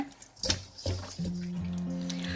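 Fish being rinsed with water after salting, with wet splashes and trickling at close range and a steady run of water toward the end.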